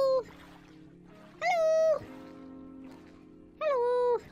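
A pet cat in the video game Minecraft meows three times, clear and close, with pauses of a second or more between each plaintive call over a quiet background.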